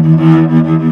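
A cello plays a short phrase of Carol of the Bells with continuous bowing and no bow lift, giving a sustained, connected low tone, close and fairly loud, with no talk.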